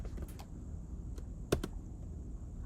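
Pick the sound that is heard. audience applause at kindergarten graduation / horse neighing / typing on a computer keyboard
typing on a computer keyboard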